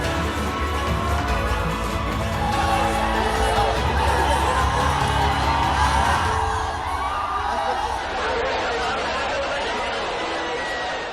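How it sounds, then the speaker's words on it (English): Large fan crowd cheering for Shah Rukh Khan, loud whoops, shouts and excited chatter blending into a constant roar that eases off toward the end. "Every year, the crowd grows louder."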